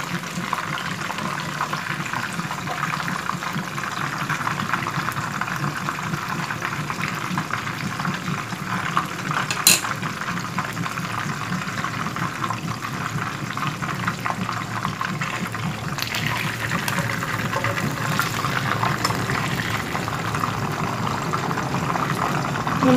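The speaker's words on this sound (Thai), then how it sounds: "อันนี้ทอดปลาจ้ะ" Steady, dense crackling and hissing of jackfruit-leaf fish frying in hot oil in a dark pan, continuous throughout at a moderate level with no talking.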